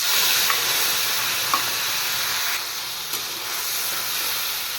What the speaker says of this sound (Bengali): এবার তেলে দিয়ে দিচ্ছি সামান্য কালো জিরে এবার দিয়ে দেবো কাঁচা লঙ্কা পেস্ট